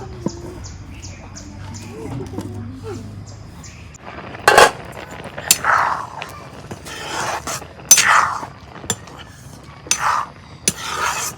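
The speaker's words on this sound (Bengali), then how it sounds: "চুলায় আগুন দিলাম, এখন কড়াইটা বহাই দিই।" A cooking wok (kadai) is set down on a lit stove, giving a few sharp metallic clanks and scrapes against steady background hum. Someone talks between the knocks.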